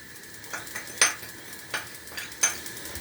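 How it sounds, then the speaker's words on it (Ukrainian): Cheese mixture stirred in a metal pot with a utensil, giving a few sharp scraping clinks spaced roughly half a second apart over a faint steady hiss, with no voices. "вимішуємо, щоб нам це все розтопилося"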